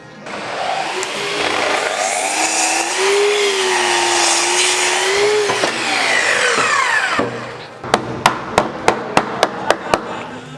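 Hand saw cutting timber studwork for a bespoke bookcase on site, a long steady rasping stroke for about seven seconds, then a quick run of sharp, evenly spaced taps, close and loud with no talking.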